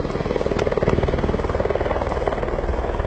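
A helicopter working at aerial tree cutting, its steady rhythmic rotor thump loud and close throughout, with no voices over it.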